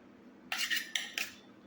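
Alphonso mango pieces dropped into a metal cooking vessel give a few sharp clinks and clatters in quick succession, close and fairly quiet against a near-silent room.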